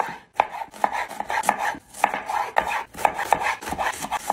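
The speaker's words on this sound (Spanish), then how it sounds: "Picamos una cebolla." Onion being chopped with a knife on a board, a run of crisp, close, evenly spaced strikes with short pauses, heard alone.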